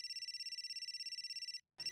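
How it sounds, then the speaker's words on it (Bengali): A phone ringtone rings with a bright, rapidly pulsing electronic tone for about a second and a half, stops briefly, then starts again. The ringing is clear and alone. "রাজা এখন কেন ফোন করেছেন"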